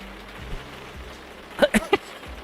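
Rain in a sim racing video game sounds as a steady soft patter and hiss, with a faint low engine drone underneath and a few sharper taps near the end.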